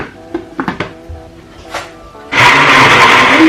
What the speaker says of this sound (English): Cover to blend.